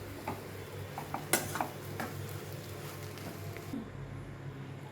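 Torn chapati stir-fry is stirred in a pan, giving soft, faint scraping with a few light clinks of the utensil against the metal over a low background hum.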